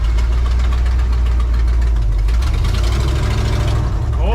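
Engine of a 1968 Ford F250 pickup truck running in gear: a loud, deep, continuous rumbling drone with knocking vibration, heard close up throughout without pause.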